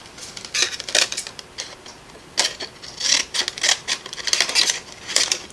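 Paper edge being cut off during card making, a series of crisp scraping, snipping strokes in uneven bursts, close and fairly loud, with no voices.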